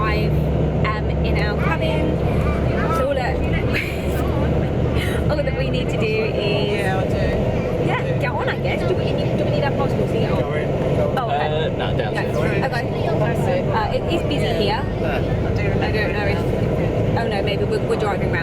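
A bus carrying holidaymakers to a cruise ship in Corfu drones with a steady low engine rumble and road noise throughout, with voices talking over it.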